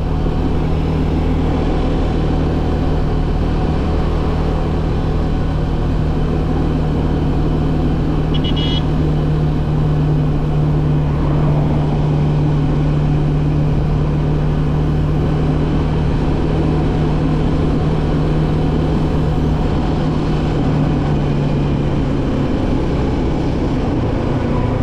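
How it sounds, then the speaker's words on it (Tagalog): A car engine drones steadily while the driver downshifts from fourth to third gear for more power on a hill, the motor holding a loud, even hum with faint traffic around it and no talk. "Mapapansin mo ang tunog ng makina sa pag-low gear ko from 4th gear to 3rd gear"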